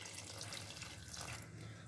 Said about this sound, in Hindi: अब इसमें मैं 3 ग्लास के करीब पानी